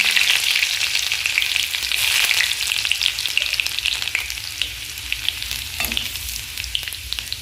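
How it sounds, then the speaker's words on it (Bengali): Garlic fries in hot oil in a wok, a loud continuous sizzle with crackling spits that gradually softens, with occasional stirring scrapes. "এই যে দেখো রসুনটাও তো একদম তেলের মধ্যে পুরো ভাজা ভাজা হয়ে গেছে"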